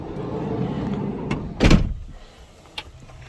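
Sliding door on a VW T6.1 California Ocean camper van rolling shut with a solid thud, followed a second later by a short click, close and alone.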